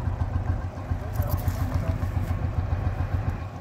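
A 1955 Fendt Dieselross F12 GHA tractor's diesel engine running steadily, a deep, loud, rhythmic thumping idle close by, with voices over it.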